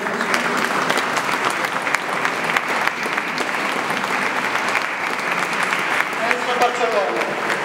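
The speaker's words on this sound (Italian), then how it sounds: "a cui va un applauso" Sustained applause for the maestro from a concert audience in Italy, a broad even wash of many hands clapping, with faint voices rising briefly near the end.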